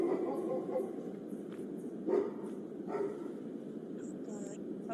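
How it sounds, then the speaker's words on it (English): A dog barks a few times, a handful of short, moderately distant yelps spread across the moment, with a voice talking over them. "it sounds like a damn dog Stonewall"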